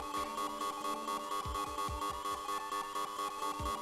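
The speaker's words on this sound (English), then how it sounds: "That's the new sub alert, everybody. It's gonna play this sound for 1 minute whenever somebody subs." A Twitch new-subscriber alert plays on a livestream as a looping electronic jingle, with steady bright synth tones pulsing in a regular rhythm over periodic deep bass thumps, clear and continuous with no talking.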